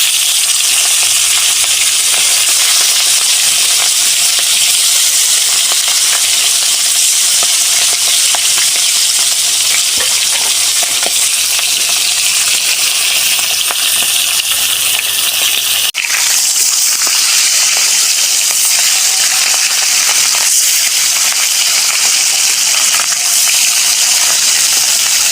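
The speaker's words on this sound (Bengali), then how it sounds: "এবারে আমি মাছগুলো ভেজে দেবো।" Hilsa fish pieces fry in mustard oil in a pan, a loud, continuous close-up sizzle with occasional stirring scrapes and a brief clatter midway.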